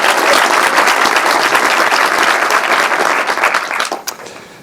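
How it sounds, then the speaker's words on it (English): An audience at a design talk in Amsterdam applauds, a loud dense wash of clapping from many hands that holds steady for several seconds and then tapers off quickly. "Can I have an applause for Brandon?"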